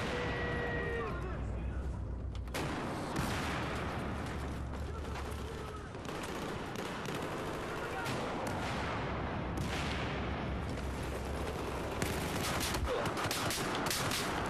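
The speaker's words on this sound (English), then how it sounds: "You just got two shotgun blasts to the chest." Dense Battlefield 4 hardcore Domination firefight on Operation Locker, loud bursts of gunfire and booming blasts packed back to back with shotgun hits among them, continuous chaos without a pause.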